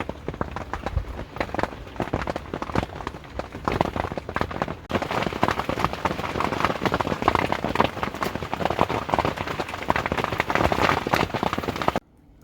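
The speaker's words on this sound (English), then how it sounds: "And this is just a little bit of the noise that you hear." Heavy rain hammers a rooftop tent at night, a dense steady roar of drops drumming on fabric close overhead, continuous and loud until it cuts off abruptly near the end.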